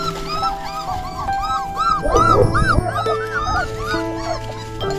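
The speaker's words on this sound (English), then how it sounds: "What are you barking at the houses for?" Small dogs barking in repeated yaps and whimpering yips, several barks overlapping at close range over steady background noise, with a louder burst midway.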